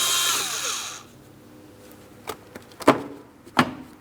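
An 8mm socket loosens a hose clamp in the engine bay of a 2003-2007 Cadillac CTS 3.6L V6: a loud burst of tool noise, then a pause and a few sharp, close metallic clicks and knocks.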